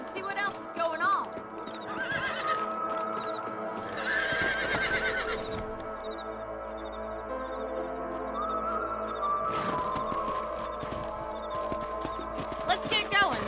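A horse whinnies and snorts amid the clip-clop of hooves in Red Dead Redemption, with game music and sound effects layered over it, loud and busy throughout.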